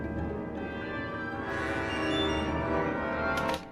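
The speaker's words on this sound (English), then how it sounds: "Oh, that sounds awful. Probably because it's the piccolo playing so darn high." A software-played piccolo holds very high, dissonant sustained notes as a musical sound effect, thin and shrill, with a brighter swell partway through and a short high burst near the end.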